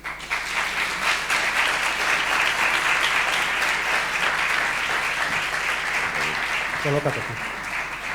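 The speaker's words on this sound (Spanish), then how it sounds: "vamos a hacer que suba aquí con un fuerte aplauso" Loud, continuous applause from a live audience welcoming a guest onto a stage at a talk show about the ouija board, a dense wash of clapping with a voice briefly speaking near the end.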